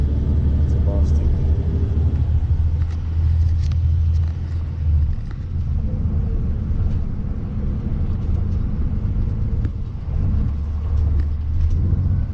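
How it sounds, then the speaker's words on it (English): Riding on a bus on the way to Manhattan, a steady low engine and road rumble fills the whole stretch, with some faint background chatter. "On the bus."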